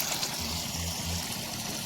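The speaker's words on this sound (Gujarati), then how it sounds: "અને પાણી જાય છે." Irrigation water runs into furrows of a maize field, making a steady, even trickling and gurgling flow close by, with no voices.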